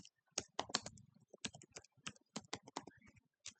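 Typing C code on a computer keyboard produces crisp, close key clicks in quick irregular bursts with brief pauses, alone in a quiet setting.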